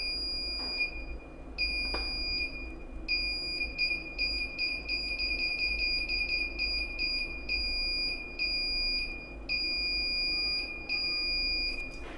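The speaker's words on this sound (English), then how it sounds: "whenever I'm blinking, the LED and buzzer is high" A buzzer in an IR eye-blink sensor circuit gives short, high, shrill electronic beeps in irregular bursts, some quick and clustered, others longer, over a steady low hum.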